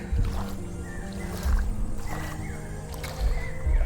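A boat moves through floodwater covering a village, with soft sloshing, gurgling and splashing of water and a few low, dull thumps, fairly quiet and without talking.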